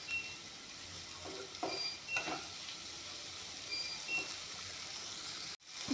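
Paneer fries quietly in a pan with a low, even sizzle, and a few faint spoon clinks and stirs come in over the steady hiss.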